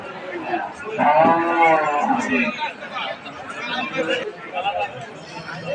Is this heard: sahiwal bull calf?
yes